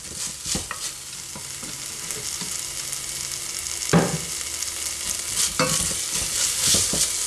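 Onions frying in a pan for a black bean chilli soup, a steady close sizzle broken by a few sharp scrapes and clunks of stirring, with no talking.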